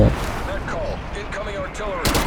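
Gunfire in Call of Duty: Black Ops Cold War, loud sustained crackling shots under game noise with a sharp burst near the end.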